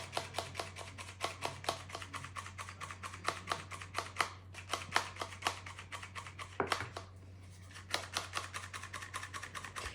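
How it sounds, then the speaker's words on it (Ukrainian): A small sieve of flour is sifted for pie dough, giving a rapid series of dry, crisp tapping and rattling strikes in close, steady bursts with short pauses in between, nearby and unaccompanied by any voices. "У мене в цьому ситочку 300 грам. Просіємо 300 грам."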